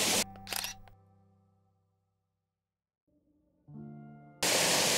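A camera shutter fires for a 3-second exposure at f/4 and ISO 100 while photographing a waterfall: a sharp opening click, a few seconds of near silence, then a closing click before loud, steady rushing water returns.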